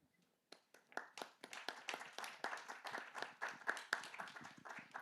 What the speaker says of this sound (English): we're warmly clapping you for those of us who are here in presence on site